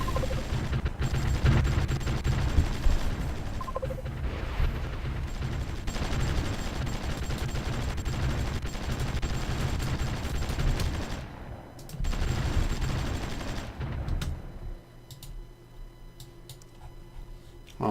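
Artillery fire in the strategy game Supreme Ruler Ultimate, set in Sierra Leone: a dense, continuous barrage of rapid booms and crackling shots rolls on for most of the stretch, thinning out near the end.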